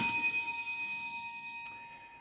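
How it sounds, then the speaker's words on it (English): A single bell rings out clearly, its bright metallic tone sustaining and slowly fading, with a faint second tap near the end. "he rings the bell"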